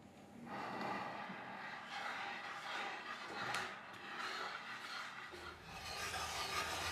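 A glass muller grinds pigment on a marble slab in steady, scratchy circular rubs, close and continuous, with no talking.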